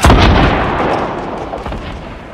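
Loud burst of video game gunfire in a Fortnite-style Team Rumble match, dense booming shots opening the clip and trailing off in a sustained rumble, with no talk over it.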